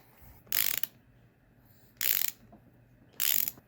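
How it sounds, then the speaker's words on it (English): A ratchet with a 4mm Allen socket works a Loctited bolt loose on a Honda XR100 engine, giving three short, bright clicking bursts evenly spaced about a second and a half apart, close and clear over a quiet background. "Using a 4mm Allen socket, I'm going to go ahead and break this loose."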